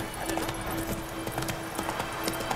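A horse's hooves clip-clop in a steady trotting rhythm in the video game The Witcher 3, close and clear throughout, with a brief tonal hum in the background.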